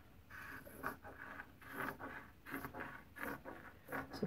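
Scissors cut down the center of a piece of fabric for a handmade accordion sketchbook, a series of soft, rhythmic snips and rustles close by, about one every half second, with no talk.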